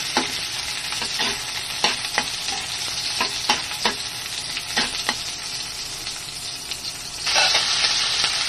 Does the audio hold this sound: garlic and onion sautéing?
yes